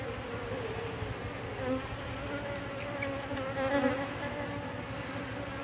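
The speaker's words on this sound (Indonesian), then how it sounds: "Jadi ini biarkan lebahnya masuk dulu ya." Bees buzzing around a beehive frame, a steady close drone of many insects humming at a low, even level with slight swells.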